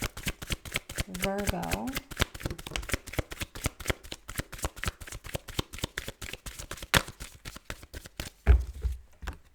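Tarot cards riffled and shuffled in quick, steady flicks close to the listener, a continuous crisp patter running throughout while a person speaks briefly over it.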